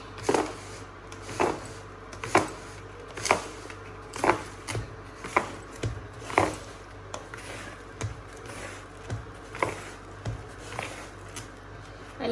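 Sesame filling for modak is stirred together with ground cardamom, giving soft, steady scraping knocks about once a second, close and quiet, repeating throughout with a faint room hum beneath.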